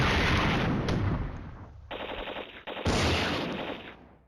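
Loud, continuous automatic gunfire from units in the Flashpoint Campaigns: Red Storm war game, rapid rattling bursts with brief breaks, close and heavy throughout.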